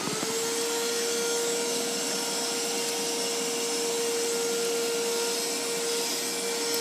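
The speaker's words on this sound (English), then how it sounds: "my sister's got to vacuum it up now" A household vacuum cleaner runs close by with a steady, unbroken motor whine over a broad hiss of suction, holding the same pitch and loudness throughout with no one talking.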